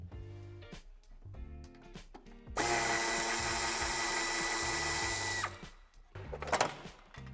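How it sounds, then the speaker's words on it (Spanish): A power tool drives out screws on the heat shield of a Dacia Dokker van: a loud, continuous whir for about three seconds, set between shorter ratcheting, clattering handling noises close by. "la chapa anticalórica tendremos que quitar los dos tornillos de 7 y 3 tornillos de 10"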